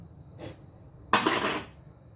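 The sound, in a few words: pressure cooker lid being put on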